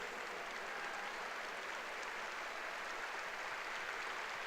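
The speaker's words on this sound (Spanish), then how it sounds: "Yo creo que tú le puedes dar un mejor aplauso a Dios este domingo." A church congregation applauding at a Sunday service, a steady, even wash of clapping held throughout at a distant, soft level with no talk over it.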